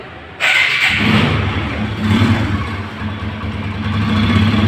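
A second-hand 2021 Apache RTR 160cc motorcycle with 6,266 km on it starts up with a short crank, then settles into a steady, close, medium-pitched idle that keeps running without a break.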